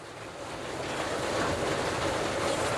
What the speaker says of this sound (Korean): 여기 어, 비 맞고 있죠?